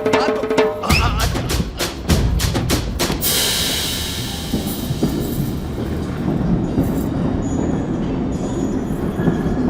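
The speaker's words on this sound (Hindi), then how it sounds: "मेरी ट्रेन छूटी जा रही है" Departing train with clattering wheels, sharp rhythmic clacks in the first few seconds giving way to a loud continuous rolling rumble and hiss close by.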